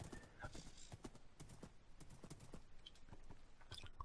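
Horses in the video game Minecraft, Feed The Beast Beyond modpack, clip-clop steadily across a desert with repeated hoof taps and an occasional whinny, fairly close and clear with no talk.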